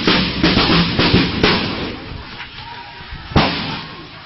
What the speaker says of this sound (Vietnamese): Chúng nó vào đàn áp dân, bắn súng tơi bời, lựu đạn cay, súng bắn đàn áp vào dân.